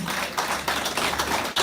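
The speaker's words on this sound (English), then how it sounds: "please join me once again in giving a round of applause" Applause for the Honorable Minister of State for Petroleum Resources at a university incubation campus launch, a dense, continuous crowd clapping throughout.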